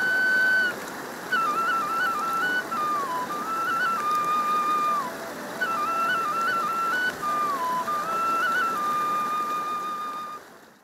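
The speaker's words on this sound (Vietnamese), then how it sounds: "Tiếng sáo, tiếng lòng, tiếng hồn nguyện sắc lay vang vọng núi rừng." A Vietnamese bamboo flute (sáo) plays a wavering, ornamented melody in long phrases, close and clear, over a faint watery background hiss.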